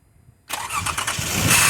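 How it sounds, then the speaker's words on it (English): A high-mileage Lexus RX300 SE-L, with about 340k on the clock, cranks and fires after half a second of near silence, then settles into a loud, steady idle close by. "we're going to fire the engine up and get you to hear the engine sound"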